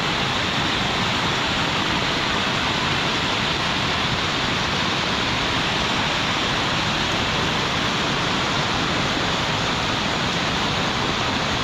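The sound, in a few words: water flowing through flooded rice fields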